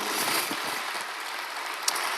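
A church congregation at an Indonesian worship service gives a faint, continuous wash of applause heard from a distance, steady throughout with one brief sharp knock near the end.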